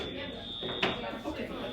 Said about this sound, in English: the fire alarm is still going off for some reason